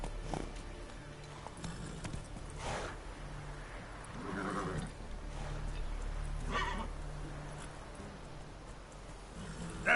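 The horse Roach gallops in The Witcher 3, with rhythmic hoofbeats under game ambience and a snort or whinny partway through, at moderate level.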